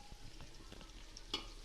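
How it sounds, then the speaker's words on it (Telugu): Onions and biryani spices frying in oil in a pan for a mutton pulav, a faint steady sizzle with a few soft stirring clinks and one brief sharper scrape near the end. "ఆనియన్స్ బాగా గోల్డెన్ కలర్లోకి వచ్చేదాకా వేపుకోవాలి"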